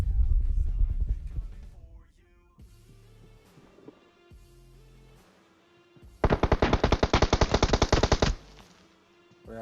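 Automatic gunfire in PUBG rattles out in a loud, rapid burst lasting about two seconds, following quieter in-game movement and thuds, with no talk over it.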